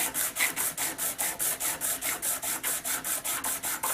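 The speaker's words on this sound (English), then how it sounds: "medium grit emery cloth on a piece of steel, piece of ground steel that I'm using to" Medium-grit emery cloth rubbed briskly back and forth over a piece of ground steel in a guitar repair shop, a steady rhythmic rasping of about twenty close, even strokes with no talking.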